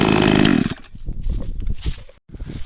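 Chainsaw running while cutting wood, a loud buzzing engine roar that drops to a rough, uneven idle with sputtering and a brief cutout, close up.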